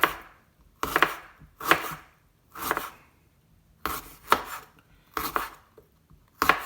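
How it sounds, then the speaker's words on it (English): A knife slices washed ginger into small pieces on a board. About eight crisp, separate chopping strokes come close and clear, with short quiet pauses between them. "You need to take the pieces for the gingers, make the small slices"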